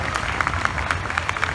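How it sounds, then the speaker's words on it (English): An outdoor crowd at an evening summer concert in Cape Girardeau, Missouri, breaks into a brief burst of dense clapping, loud and close, with scattered sharper claps standing out. "give a round of applause for all of our sponsors"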